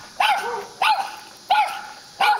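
A dog barks four times at a steady, spaced rhythm, each bark sharp and close, with quiet pauses in between and no voices.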